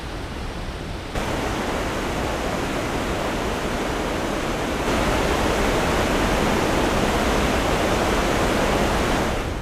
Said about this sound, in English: Nearby is lovely Bridal Veil Falls.